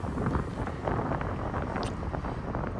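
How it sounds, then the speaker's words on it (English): Steady wind buffets the microphone, a constant loud rushing roar with no pauses. "But, it's windy in here."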